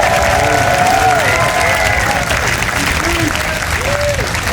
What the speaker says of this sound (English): give Michelle Perkins and all the Turning Point a round of applause